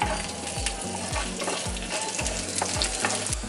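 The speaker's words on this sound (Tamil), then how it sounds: "தனியாவும் சீரகமும் ஒன்னா போட்டு நெய்யில வறுக்க" Coriander and cumin seeds fry in ghee in a pan, giving a close, steady sizzle with regular rhythmic scrapes of stirring, and no talk.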